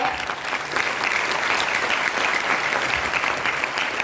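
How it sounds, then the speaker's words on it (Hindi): An audience at a business meeting applauds throughout, a dense, steady clapping from a crowd with a faint voice underneath. "सबके लिए ताली बजाया।"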